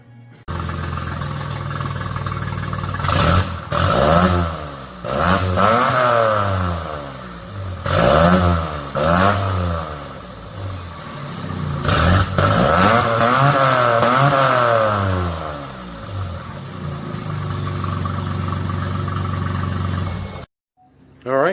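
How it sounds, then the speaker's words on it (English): A Geo Metro engine fitted with a custom 2-inch exhaust runs close by, idling, then revving up and down repeatedly in rising and falling sweeps with a raspy tone, and no voices over it. "Got my custom 2-inch exhaust on the Geo Metro. It's got a little bit of a tone to it."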